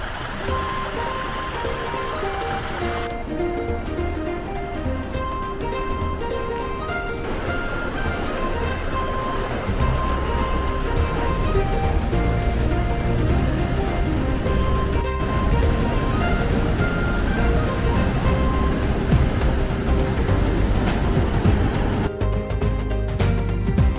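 A waterfall with heavy flow pours outdoors, making a continuous loud rushing roar that stays steady the whole time, with no voices.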